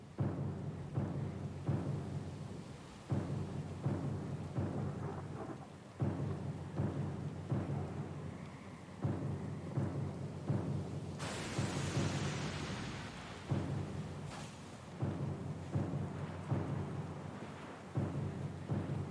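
Thunderstorm at sea in the video game Pillars of Eternity II: Deadfire, with steady heavy rain and repeated deep thunder rumbles rolling in at a regular pace, plus a sharp, bright crack near the middle. No voices.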